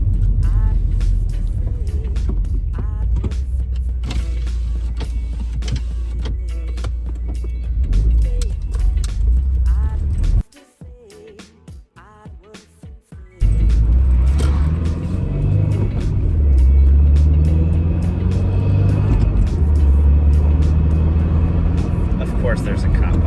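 2016 Subaru WRX with a Stage 1+ tune, MAPerformance intake, pulling hard through the gears: a loud, continuous engine drone and road rumble, briefly dropping away before surging back with rising tone, with a voice talking over it.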